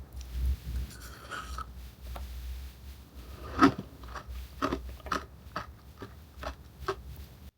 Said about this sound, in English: let me actually get into the shaved ice bit so I can give you an ASMR.